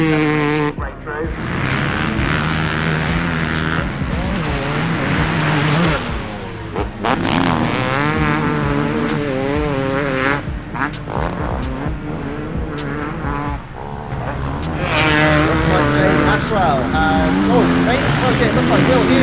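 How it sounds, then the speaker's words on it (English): MX2 motocross motorcycles racing at the AMCA British Championship, Lower Drayton, with loud, continuous engine roar and revving from several bikes throughout, gear changes and throttle swells rising and falling, under a commentator's steady talk. "So it looks like Liam Gale continuing the MX2 charge out there as they make their way through"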